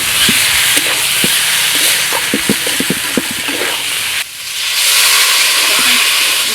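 Silver carp curry with salt and ginger sautés in a hot pan, giving a loud, continuous sizzle and steamy hiss with scattered ladle clinks, a brief dip, then the sizzle surging back.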